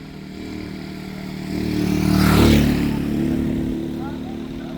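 A motorcycle carrying riders up a mountain road hums steadily, its engine note rising to a louder pass near the middle before settling back, with road clatter underneath.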